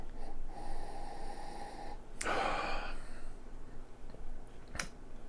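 A person sniffs the aroma of a vanilla stout beer up close, giving a sharp nasal inhale in the middle, followed by a softer sniff and faint breathing.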